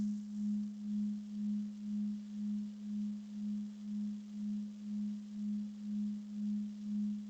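A synthesized pure sine tone hums at a single low pitch, steady and faint, and pulses gently in a slow, regular wobble throughout, with no voices.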